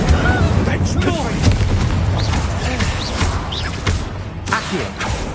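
Spell blasts in the wizarding game Hogwarts Legacy, a string of loud bursts and booms crackling over a constant low rumble, with voices shouting through the action.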